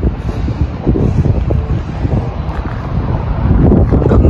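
Strong wind during a tornado warning in Canada buffets the microphone with a loud, rough rumble that rises and falls continuously, growing heavier toward the end.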